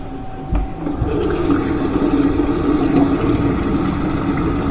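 Hot water from boiled pasta pours out into a sink in a home kitchen, a sudden splash followed by a steady, rushing gush of liquid that continues close and loud, with no talking.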